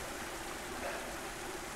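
A waterfall pours steadily, a dense, constant rushing wash of water close by with no breaks or voices.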